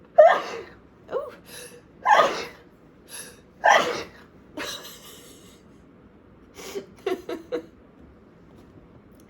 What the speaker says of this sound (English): That was a lot of sneezing.